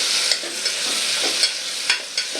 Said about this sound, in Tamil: சோம்பு போட்டோடனே அடுத்து வெங்காயம் போட போகிறோம்.